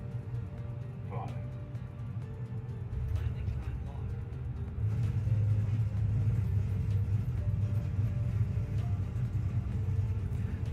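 An Airbus A320neo's engines roar in reverse thrust during landing rollout, a loud low rumble that swells midway and holds steady, with cockpit voices speaking over it.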